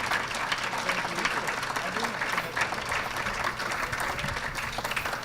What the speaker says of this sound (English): So let's give a round of applause to our 5 businesses that were here.